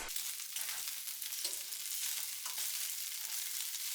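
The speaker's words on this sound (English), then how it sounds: "While I wait for the bacon to cook" Bacon frying in a pan while breakfast quiche is prepared, a steady close crackling sizzle with bright spitting texture running evenly throughout without pause, no voices.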